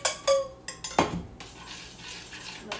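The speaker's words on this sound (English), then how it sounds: "So maybe I will just mix the Vaseline, which is the one already." Vaseline is stirred in a container for homemade lotion, starting with several close scraping clinks and taps that trail into quieter, softer mixing.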